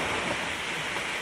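Rushing waterfall heard up close during an outdoor buggy adventure day, a loud, dense, unbroken roar of falling water filling the whole short moment with no voices.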